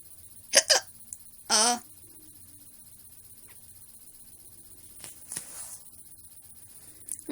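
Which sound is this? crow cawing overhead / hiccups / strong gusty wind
hiccups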